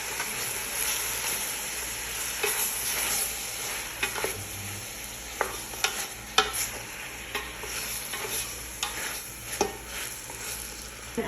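Camel meat stirred in a pot as it browns, with a soft continuous sizzle and repeated scraping and clinking strokes of a spoon at irregular intervals, close by, no voices.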